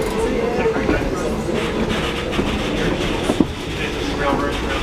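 Norfolk & Western 611, a steam locomotive built in 1950 at the Roanoke shops, pulls an excursion train on the Strasburg Railroad, heard as a steady rolling rumble with a sharp clack near the end and muffled voices.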